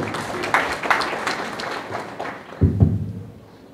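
Scattered clapping from an audience, uneven and moderately loud, with a couple of heavy thumps near the end as it fades.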